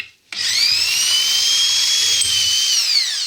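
A steady, loud drill whine as a bit bores through a metal workpiece, starting abruptly after a brief silence and holding an even high pitch for about three seconds over a faint low hum.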